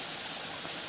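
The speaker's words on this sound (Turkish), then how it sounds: "Nasıl da ses çıkıyor bak sulardan." A rocky stream tumbling over small waterfalls, a steady close rushing hiss of water with no pauses, filling the whole sound.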